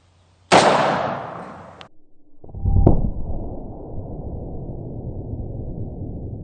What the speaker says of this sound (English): Let's try some 357 Magnum.